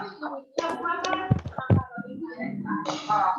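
During an online teacher-training session, people clap a two-beat pattern: a couple of sharp, fairly loud claps near the middle, with voices talking before and after.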